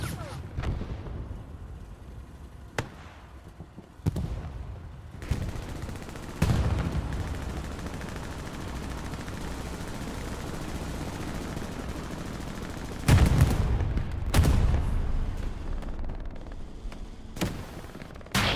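Machine gun fire rattles through a WWII video game match on the Carentan Canal Crossing map, coming in sharp bursts and separate loud cracks over a steady battlefield din, with a heavy cluster of blasts near the end.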